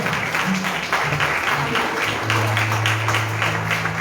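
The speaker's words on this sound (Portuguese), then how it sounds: "Aplauda o nome do Senhor" A church congregation claps during a Thursday worship service, with rhythmic bursts of hands over low sustained tones and a voice calling out briefly.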